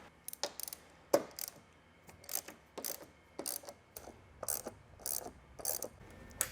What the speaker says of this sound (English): we're gonna take the socket and the ratchet and we're gonna get all the 12mm bolts removed